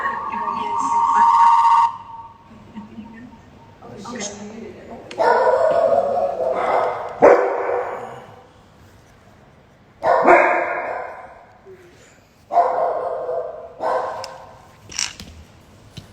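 A dog barks in repeated bursts indoors, several loud yelps and barks spread through the stretch, with people talking in between.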